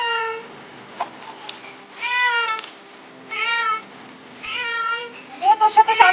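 A pet cat named Putu meows repeatedly while being bathed in warm water from a bucket, with several drawn-out plaintive cries followed by a rapid run of shorter yowls, close and clear with faint background sounds.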